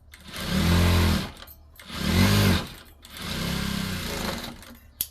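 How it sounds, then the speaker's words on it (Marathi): A sewing machine stitches a straight seam on a blouse in three loud, close bursts of steady motor whirring, separated by short pauses. "आता इथे फिटिंग करायची सरळ टिप मारून घ्यायची आपल्याला"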